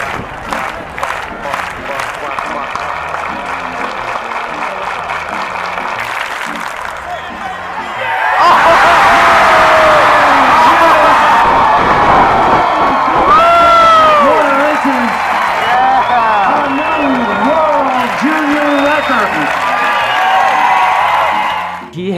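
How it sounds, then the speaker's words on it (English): A large stadium crowd at a track meet cheers and claps for a pole vault world record, a loud sustained roar with voices shouting over it, building after a quieter stretch. "All right, start the clap. Clap, clap, clap, clap, clap, clap"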